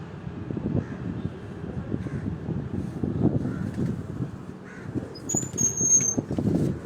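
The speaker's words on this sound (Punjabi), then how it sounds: "ਇਹ ਅਗਲੇ ਜੇਠ ਦੀ ਤਿਆਰੀ ਵਾਸਤੇ ਕਬੂਤਰ ਤਿਆਰ ਹੋ ਰਹੇ ਨੇ ਜੀ" Flock of pigeons flying over a village rooftop, soft repeated wing flutters and airy whooshes under light wind, with a faint high whistle partway through.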